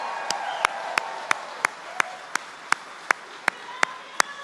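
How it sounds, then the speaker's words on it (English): Single, evenly spaced hand claps, about three per second, ring out over a faint room hum; more like one person slowly clapping than a crowd, as the Disabled American Veterans convention audience is asked to applaud a Vietnam veteran. "Give Bobby a big round of applause."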